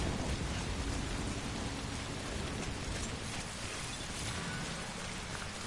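Steady rain in the video game Death Stranding pours down in a dense, even hiss, with a low rumble beneath it, continuous and fairly quiet throughout.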